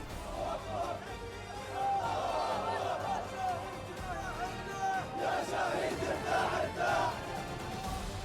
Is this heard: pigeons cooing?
no